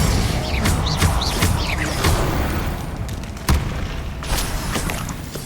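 Spell blasts from Hogwarts Legacy, including fire and explosive curses, set off loud booming impacts over a dense roaring background. A sharp crash lands partway through, and magical whooshes and crackles fill the gaps between hits.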